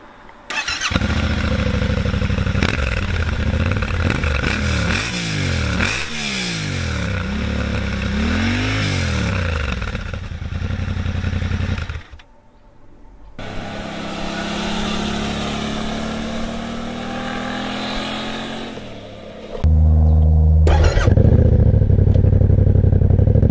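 Yamaha Tenere 700 adventure motorcycle engine starting and idling with a loud close rumble, several sharp revs rising and falling, a brief quiet gap, then idle and a heavy final throttle burst.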